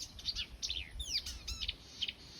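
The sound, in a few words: warbler mimicking a blackbird's song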